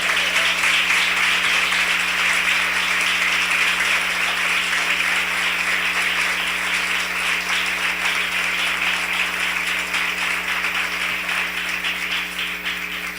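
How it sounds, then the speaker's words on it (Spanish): A church congregation gives sustained, loud applause for the Lord, a dense, even wash of many hands clapping that holds for over ten seconds and fades only slightly at the end. "Puede darle un fuerte aplauso al Señor."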